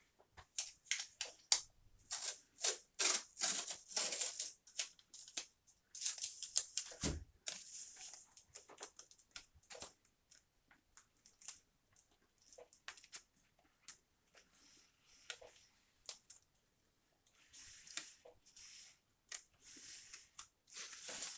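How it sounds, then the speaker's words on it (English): Several quick, crackling tearing bursts of tape being peeled off a surface, close and sharp, separated by pauses and softer handling noises. "This tape is old. Let's just zip that off of there."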